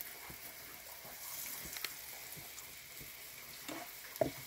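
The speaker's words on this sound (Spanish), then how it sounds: "a dorar nuestra tortilla" A tortilla browns in a little hot oil in a pan, a faint, steady sizzle with a few soft stirring clicks and a brighter sharp tap near the end, no talk.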